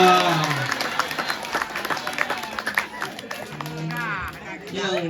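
Audience clapping at a comedy performance by a comedian at a Balinese temple, Pura Dalem, heard as steady applause mixed with crowd chatter and talk throughout.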